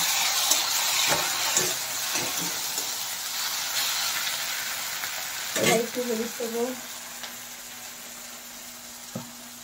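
Ginger garlic paste fries with tomatoes in a pan, giving a steady close sizzle with a few stirring knocks and a brief burst of louder activity midway.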